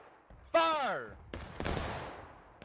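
A line company fires a volley of rifles, a shouted voice followed by a ragged, crackling burst of near-simultaneous shots that tails off into a noisy decay.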